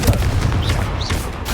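Loud, close blast of the Confringo spell exploding in the Hogwarts Legacy game, a booming burst with crackling rumble and a brief whooshing tail amid other combat noise.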